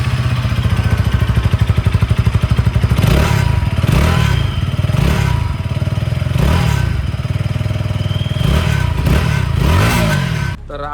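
A KTM Duke 160 motorcycle with an underbelly exhaust idles and revs close by, its engine thrumming steadily with a series of rising and falling throttle blips, loud and alone without talk.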